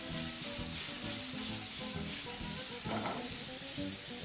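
Shrimp, onions, garlic and ginger sizzle loudly and steadily as they are tossed together in a pan for a one-pot Spanish rice and prawn dish, with a brief surge of crackling near the end.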